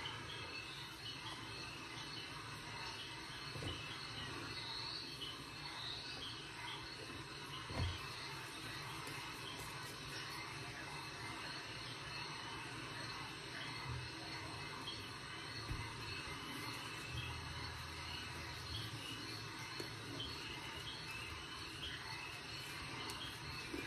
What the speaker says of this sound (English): back by popular demand, I've had requests for the return of swamp sounds. Bullfrogs and crickets and rainstorms.